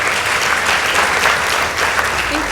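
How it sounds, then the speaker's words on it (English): A school debate audience applauds steadily and loudly throughout, a dense continuous clapping with no break, after results are announced at a competition between Sheikh Khalifa School and Matuga Girls High School. "Please give them a warm round of applause"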